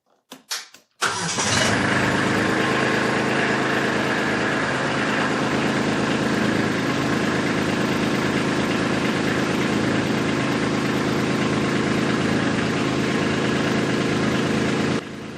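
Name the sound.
tractor engine starting and idling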